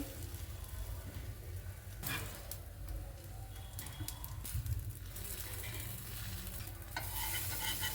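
Mumbai street-style dabeli frying in butter on a hot tawa, a soft continuous sizzle with intermittent scraping and flipping sounds from a spatula, fairly quiet and close.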